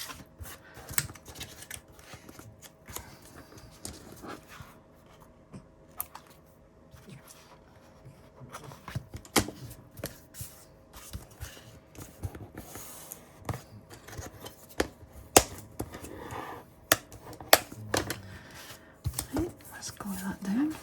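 Scissors snip through paper while a handmade book cover is made from recycled material. Quick, close, irregular cuts mix with paper rustling and quiet talk.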